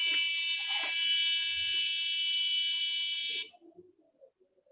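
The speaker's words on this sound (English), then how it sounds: "you can actually turn the buzzer switch on your Maker Uno." Piezo buzzer on a Maker Uno microcontroller board emits a loud, steady high-pitched electronic tone for about three and a half seconds, then cuts off abruptly, leaving faint background noise.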